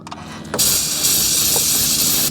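A can of carb cleaner sprays into a 2006 Acura MDX engine in a loud, steady hiss lasting about two seconds after a couple of short preliminary bursts.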